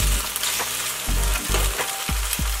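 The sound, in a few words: firm tofu frying in a pan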